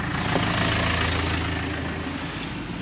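Big diesel tractor idling at a roadside vehicle accident scene, a steady low rumbling drone that holds evenly for a few seconds at close range, with no voices.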